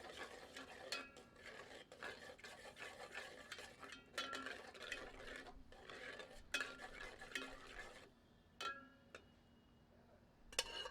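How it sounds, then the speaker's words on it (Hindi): Cooked dal for a Punjabi-style dal makhani being stirred into a hot tempering in a pot: repeated soft scrapes and clinks of a spoon against metal at a steady rhythm, quiet and close, pausing briefly near the end. "अब पकाई गई दाल इस तड़के में पलट देते हैं। सबको अच्छे से मिलाते हैं।"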